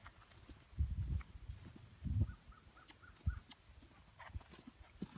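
Horse's hooves thud on the ground during a canter in a round-pen groundwork session, a few heavy beats bunched at intervals, with quieter rustling and faint birdsong around them.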